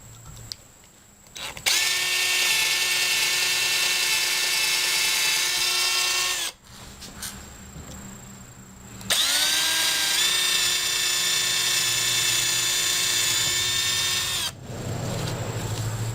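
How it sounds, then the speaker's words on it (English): A power drill whirs in two long bursts, drilling pilot holes in a shelf bracket, each several seconds, with a brief pause between and a rising pitch as each starts, close and loud. "We'll drill 2 pilot holes here to have this ready for mounting to the wall."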